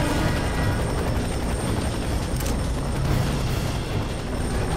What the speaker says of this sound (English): Why is that helicopter just hanging out there?